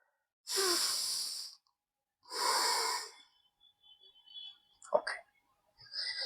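Two long, slow, deep breaths during a yoga stretch, each a close, airy whoosh lasting about a second, followed by soft clicks and small mouth noises before another breath begins.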